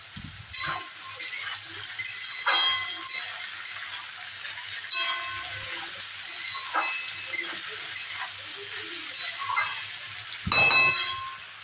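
Tengra fish with potatoes and turmeric being fried and stirred in a pan, soft sizzling under repeated scraping and clattering strokes of a spatula, close by.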